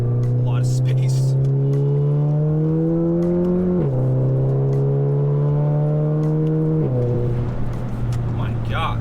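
A Volkswagen Golf GTI fitted with an IS38 turbo pulls hard in third gear, its engine note climbing steadily with two brief dips at gear or throttle changes, loud and continuous from inside the car.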